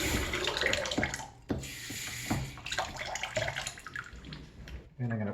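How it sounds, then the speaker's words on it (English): Tap water runs into a 50 millilitre measuring cup for brownies from a mix, a splashy stream with clinks and handling noises close by; a voice speaks over parts of it. "So I'm going to add some water to that."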